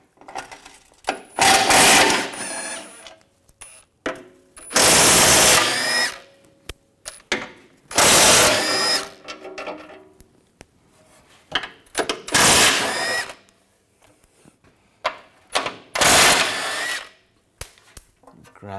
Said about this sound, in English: Take these bolts out.